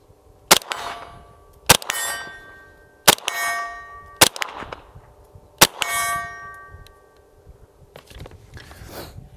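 Five or six loud, sharp shots from a CZ Scorpion EVO 3 S1 carbine firing Hornady Zombie Max defensive rounds, each crack followed by a ringing metallic clang from a steel target, spaced irregularly about a second apart.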